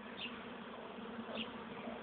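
A dense, steady swarm of bees buzzes close by during a hive transfer in a forest, a continuous droning hum with no talk.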